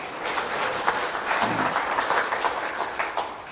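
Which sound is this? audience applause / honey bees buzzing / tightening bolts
audience applause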